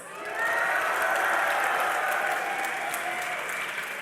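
Esports crowd at a League of Legends grand final between Fnatic and CLG at DreamHack roars and applauds in a dense, sustained wall of cheering and clapping that swells quickly and holds steady, with no talk over it.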